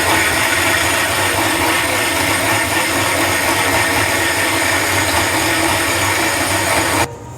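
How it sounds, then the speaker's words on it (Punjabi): Mixer grinder blending tempered masala into a paste for a paneer malai kofta gravy, a loud steady whir running nonstop for about seven seconds before cutting off abruptly, with no talking. "ਹੁਣ ਅਸੀਂ ਇਹਨੂੰ ਮਿਕਸੀ 'ਚ ਪਾ ਲਿਆ ਜੀ ਹੁਣ ਅਸੀਂ ਇਹਨੂੰ ਕਰਾਂਗੇ ਜੀ ਗ੍ਰੈਂਡ"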